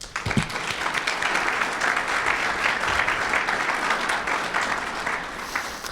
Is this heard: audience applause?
yes